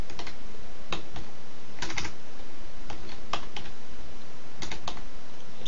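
Typing on a computer keyboard while searching in a web browser: scattered bursts of quick key clicks, close and fairly loud, with short pauses between runs of keystrokes.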